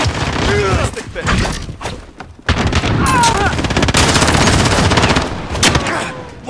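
Dense bursts of automatic gunfire and explosions in a Call of Duty: Modern Warfare multiplayer match, loud and nearly continuous with a brief lull, with a player's voice talking over the chaos.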